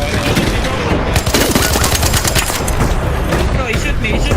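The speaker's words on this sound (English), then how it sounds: "Am I getting shot at?" Rapid bursts of automatic gunfire rattle on loud and close in the shooter game Arc Raiders, with shots overlapping continuously and a voice speaking briefly over the barrage.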